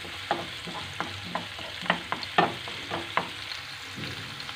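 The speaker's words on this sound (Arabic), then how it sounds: "صافي غادي نخليهم يتحمروا شويه." Chopped onion and finely grated garlic frying in a pan while being stirred, with repeated scraping and stirring clicks over a soft, steady sizzle, close and fairly quiet, no talking.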